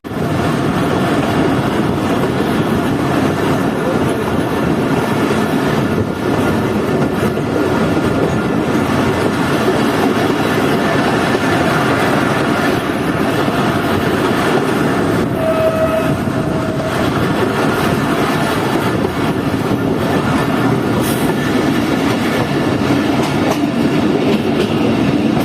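A Chaman Passenger train coach rolls through Balochistan toward Kuchlak, with a continuous loud rumble and rhythmic clickety-clack of wheels on track, and a faint horn briefly heard in the background.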